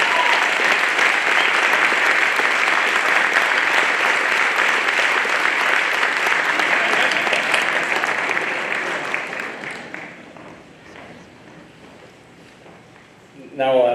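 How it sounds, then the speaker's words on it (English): Audience at a baccalaureate ceremony clapping in a sustained burst of applause that fades out after about ten seconds, followed by quiet room sound and a speaker beginning to talk at the end. "Give him a round of applause."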